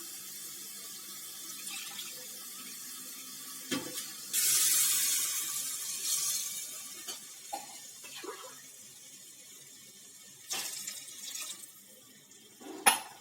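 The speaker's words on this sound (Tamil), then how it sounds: "இப்போ இதில் 2 டம்ளர் தண்ணி ஊற்றிக்கலாம்" Two tumblers of water run and splash into a pot of rice for a few seconds, with a louder gush in the middle and brief clinks near the end.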